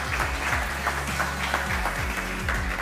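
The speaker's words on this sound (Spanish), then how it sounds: "Un aplauso, por favor." Audience applause at an LCS EU esports league press conference: a crowd claps steadily and fairly loudly throughout, a continuous close patter of hands with no speech on top.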